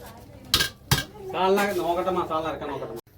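A cooking pot holding tomato biryani has its metal lid lifted, with two quick close clinks, and then a voice talks over the open pot.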